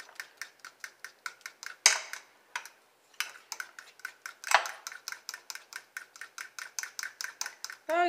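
A spoon stirs mayonnaise-based seafood sauce in a glass bowl, giving a steady run of quick, close clinks and taps with brief scraping bursts and short pauses.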